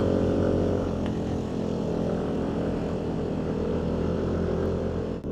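A SYM ADX TG 150 scooter climbs uphill with its engine droning steadily and loud, with rushing wind noise throughout and no pauses.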